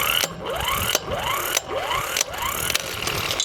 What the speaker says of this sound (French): On va voir un peu l'efficacité de la clé à choc.